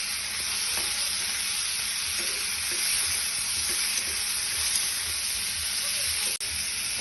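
Tomatoes sizzle and sauté in a hot pan while being stirred for a mushroom masala, a steady broadband frying hiss with small stirring clicks, close and continuous with no talk.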